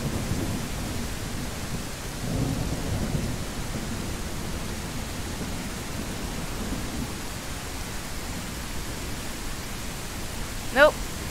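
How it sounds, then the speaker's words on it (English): Steady rain and a thunderstorm in the Mist Survival video game, a constant hiss of rainfall with low rumbling thunder swelling around the second and third seconds, and a brief sharp sound near the end. "it rained for an hour and a half."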